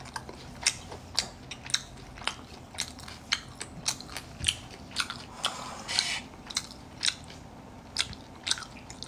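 A dog chews a crunchy snack with repeated loud, close bites and crunches at an irregular, quick rhythm.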